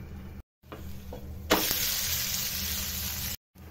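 A suji chilla cooks under a lid in a pan over a medium flame, giving a steady loud sizzle that surges partway through and holds, with soft clatter before it.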